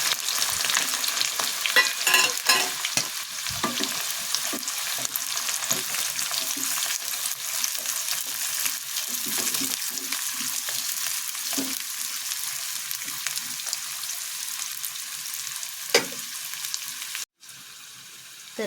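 Garlic cloves and chopped onion fry in hot oil for pizza sauce, a close continuous sizzle with stirring scrapes early on, gradually settling, then cutting off abruptly near the end.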